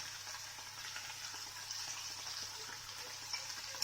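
Soft, steady sizzle of pumpkin leaves, shoots and flowers stir-frying in a hot pan over high heat, faint and close with small crackles and occasional stirring scrapes.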